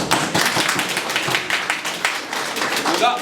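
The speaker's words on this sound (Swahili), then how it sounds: "Pigeni makofi na waambie ukweli." An audience at a political meeting claps loudly and continuously, a dense close burst of many hands with no break.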